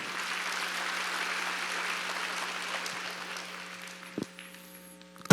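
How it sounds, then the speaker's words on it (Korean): A church congregation applauds during a Sunday worship service, a sustained patter of many hands that gradually tapers off, followed by a couple of isolated knocks. "박수야."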